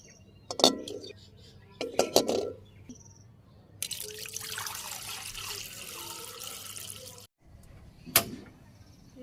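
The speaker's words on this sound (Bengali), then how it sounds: "এই যে ডিমগুলো দিয়ে দিই কড়াইতে।" Eggs go into a wok of water for boiling in a Bangladeshi village kitchen: a few close, hard clinks, a stretch of water pouring or splashing, then one more sharp knock near the end.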